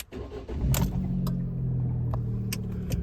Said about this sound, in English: It starts and drives